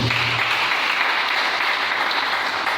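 A church congregation in a worship tent applauding the Lord, a steady dense wash of clapping from many hands that fills the space, loud and sustained without a break.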